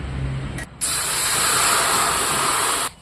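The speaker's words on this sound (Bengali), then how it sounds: "কড়াইতে এখন গরম জল দিয়ে দেব" Hot water hitting a heated wok (kadai) on a lit stove for soaking broccoli, a loud steady hissing spray lasting about two seconds after a short lower rumble, with no voices.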